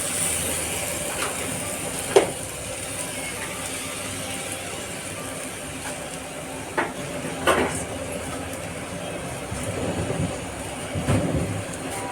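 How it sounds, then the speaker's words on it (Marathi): Street-style Hakka noodles are stir-fried in a kadhai over a roaring flame: a loud continuous hiss broken by a few sharp metal clanks as they are tossed. "आता नूडल्स घालून घ्यायचे सगळे कढईमध्ये आणि छान परतवायचे."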